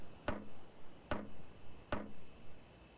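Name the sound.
hammering in video game Escape The Pacific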